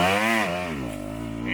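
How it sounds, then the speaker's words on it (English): A dirt bike engine revs up and down as the clutch is slipped during enduro riding practice on an incline, a loud, close, buzzing tone that rises and falls in pitch over a second or two. "you only need to pull it in a little bit to where them RPMs start climbing and you keep the bike from bogging"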